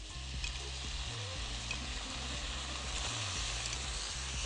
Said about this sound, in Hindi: सबसे पहले आप पैन में डालेंगे 4 टेबलस्पून कोकोनट मिल्क के